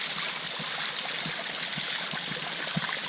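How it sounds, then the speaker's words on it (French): Rainwater from a heavy overnight downpour spills as a small waterfall onto a beach, a steady close trickle and splash with soft gurgling, no voices. "Il y a tellement plu cette nuit qu'on a une petite cascade d'eau de pluie."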